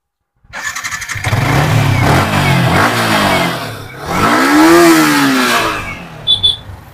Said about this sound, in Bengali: ওয়ান ক্লিকে গাড়ি স্টার্ট একদম